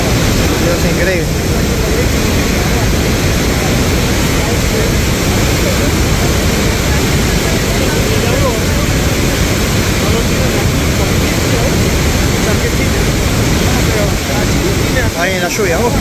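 Iguazú Falls in Argentina, a massive waterfall, roars as a loud, continuous broadband wash close by, steady throughout with no breaks.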